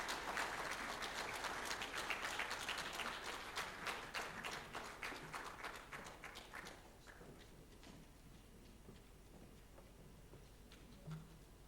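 An audience applauds after the Murtala Muhammed Foundation annual lecture, with dense, fairly distant clapping that fades into sparse individual claps and then near silence.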